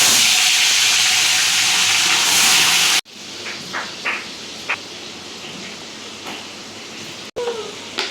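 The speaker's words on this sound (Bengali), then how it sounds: "এবার ভেজে নেবে।" Tilapia pieces rubbed with salt and turmeric go into hot oil in a kadai. A loud, steady sizzle and hiss fills the first three seconds, then a quieter crackle continues with a few light clinks.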